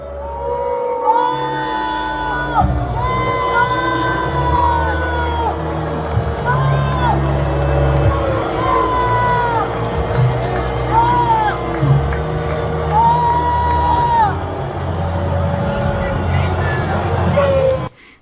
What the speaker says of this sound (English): Trump was getting mercilessly booed